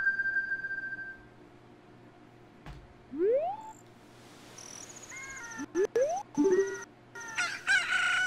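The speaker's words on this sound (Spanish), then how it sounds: "La gallina ha cantado, o sea que el tiempo ha pasado." Rooster crows at dawn in the video game The Legend of Zelda: Ocarina of Time on N64, heard as rising electronic crowing calls over a quiet background, mixed with several short chimes and other in-game effects, with no talk.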